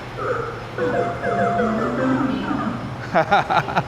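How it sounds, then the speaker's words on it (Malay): A custom lock sound plays from a Tesla's external speaker: a melodic run of sliding tonal notes over a low hum, ending in a few short, punchy bursts that resemble voice-like sounds or laughter. "Apa-apa suara just masuk kat dalam thumb drive, lepas tu letak dalam kereta. Bila dia lock, dia akan bunyi."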